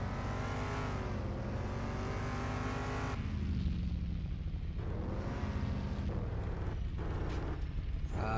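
A race car in a racing video game revs hard through the gears, its engine note climbing steeply, then dropping at each shift before rising again, loud and steady throughout with no talk.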